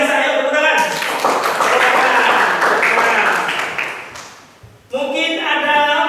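A school class bursts into applause after a group presentation, clapping loud and sustained for about three seconds before fading, with a teacher's voice speaking before and after.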